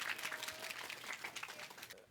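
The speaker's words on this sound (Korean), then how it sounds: "다시 한번 큰 박수 보내주시기 네, 바랍니다" An audience at a physics lecture claps together in a dense, steady burst of applause that trails off at the end.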